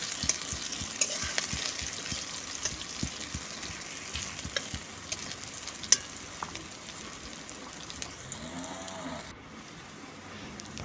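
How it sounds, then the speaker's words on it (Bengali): Chopped onions sizzle in a pan alongside crushed cinnamon while being stirred, a steady frying hiss broken by repeated scraping strokes of a spatula, close and moderately loud, with no talking. "এরপর ভালো করে আমি নেড়ে নিচ্ছি।"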